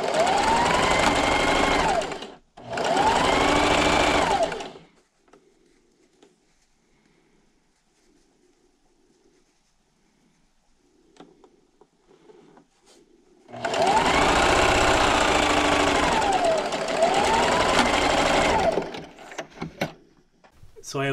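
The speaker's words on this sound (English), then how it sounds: "So I have both of my strips sewed together," A sewing machine stitches fabric strips for a table runner in two loud, steady runs: a short start-stop burst, then a longer stretch of rapid whirring, separated by a quiet pause with only faint handling noises.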